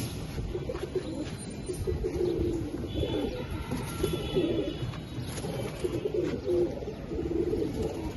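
Nearby pigeons coo in repeated low, throaty rolls, with a faint chirp now and then over a steady background hum.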